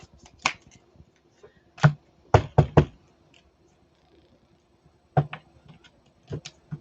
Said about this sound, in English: Just need to shuffle a few more times.